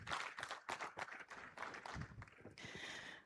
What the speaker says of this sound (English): A round of applause, please, for the panel.